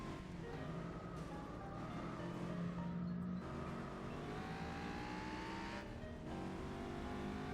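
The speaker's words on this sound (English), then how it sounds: "Mazda RX-7 there" Mazda RX-7 engine in Gran Turismo 4: a steady racing drone with rising and shifting engine pitch as the car accelerates, heard continuously at moderate, even loudness throughout.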